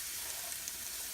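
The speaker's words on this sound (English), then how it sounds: "So we're going to put in our onions, and we're going to saute the onions just until they're translucent" Chopped onions sautéing in bacon grease in a pot for clam chowder, a steady soft sizzle heard alone, faint and even for a brief moment.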